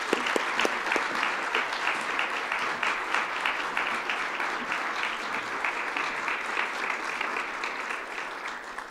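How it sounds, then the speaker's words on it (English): An audience at an innovation celebration event claps in sustained, dense applause that stays loud and even throughout before tapering slightly at the end. "everybody needs to give Sarah Bargo and her team a big round of applause"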